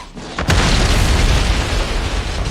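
A sudden, powerful explosion of an ignited air and hydrocarbon mixture erupts into a loud, rumbling roar that sustains and slowly fades, heavy with deep booming energy.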